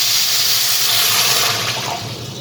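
Water pours steadily into a pan of sugar for syrup, a close, continuous rushing splash that tapers slightly toward the end, with no talking.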